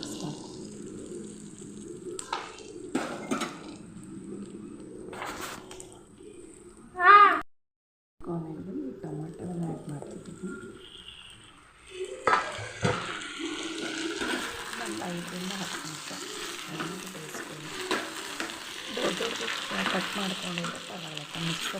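Chopped tomatoes fry and sizzle in hot oil for a curry base gravy, with intermittent stirring and scraping. A voice talks over the frying, and a brief louder clatter breaks in partway through.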